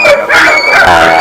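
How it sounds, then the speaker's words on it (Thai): Dogs fight nearby at a hill village household in Myanmar, giving loud, close, high whining yelps and howls that run continuously through the short moment. "มีเสียงหมากัดกันด้วย ที่ตรงใกล้ๆนะครับผม"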